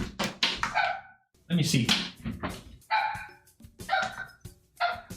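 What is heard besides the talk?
dog barking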